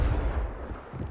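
The Confringo spell fires in the Hogwarts Legacy video game as a short, booming blast with a deep low-end punch that quickly tails off, loud and close with no talking.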